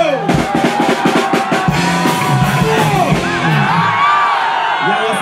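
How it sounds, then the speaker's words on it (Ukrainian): A crowd at a city-day celebration with a military band in Haivoron shouts together in repeated bursts, loud whoops and yells swelling over a steady hubbub of many voices. "Всі разом руки і кричимо ага"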